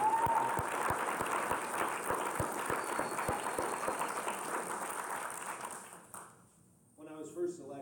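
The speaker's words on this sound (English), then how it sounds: "can we get a round of applause for Brandon and the rest of the staff?" Meeting audience at a state party quarterly committee gathering breaks into sustained applause, dense clapping that stays loud for about six seconds before fading out, with a few scattered claps and murmurs at the end.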